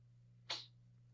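A single short, sharp sneeze bursts out once, fairly close, over a quiet steady low hum, with no talking.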